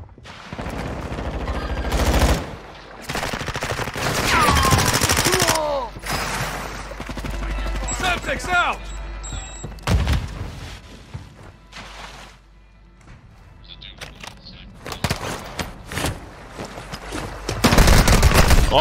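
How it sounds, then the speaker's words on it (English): Video game gunfire: repeated bursts of automatic shots and single cracks, loud and close, coming in clusters with short gaps, alongside brief electronic effects and some talk. "Oh, he just shot me."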